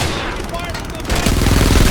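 Rapid, dense gunfire from the Frontlines: Fuel of War video game rattles continuously and gets louder in the second half, with a rhythmic bursting texture and no talking.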